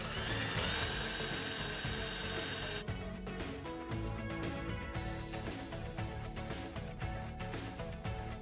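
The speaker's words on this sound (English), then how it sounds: "Now I'm just gonna over drill the holes for the Dore vent and the extra chain locker." A power drill bores oversized holes for a Dorade cowl vent and chain locker opening in a sailboat deck, a steady loud whine running throughout with a harsher, pulsing grind in the latter part.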